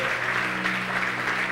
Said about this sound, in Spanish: ¿Cuántos le dan un aplauso a Dios por eso?